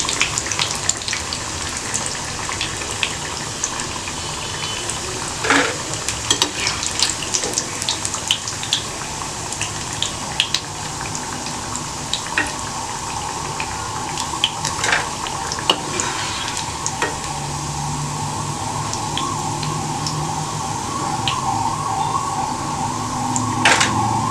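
Colocasia pieces sizzling in hot oil in a home kitchen, a steady dense crackle and hiss that runs continuously, fairly loud and close with no voices.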